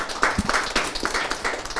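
A crowd applauds for AFI at an event, with a burst of clapping that is dense and moderately loud throughout the short stretch. No voices stand out above the clapping.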